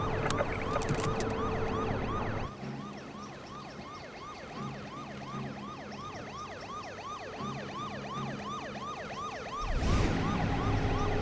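A wailing emergency siren sweeps up and down continuously over steady traffic rumble, fairly loud throughout.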